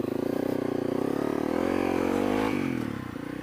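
Motorcycle on Motoz Tractionator Enduro tires riding through sand, its engine buzzing steadily and swelling louder mid-way before easing off, with faint scraping and clatter underneath.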